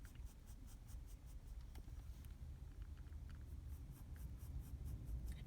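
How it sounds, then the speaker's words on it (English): A pencil scraping across paper while someone sketches inside a parked car with the engine off, faint rhythmic strokes of scratching close by against a quiet background, with no speech. "hopefully you can maybe even hear the pencil scraping along"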